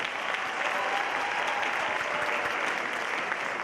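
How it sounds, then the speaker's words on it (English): Audience at a high school winter concert giving a round of applause, dense continuous clapping that holds an even level throughout. "Give them one more round of applause,"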